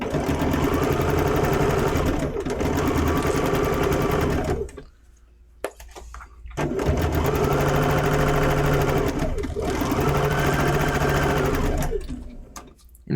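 A sewing machine stitches a quilt block in two long, steady runs, whirring loudly and close, with a short slower, quieter stretch between them and no talking.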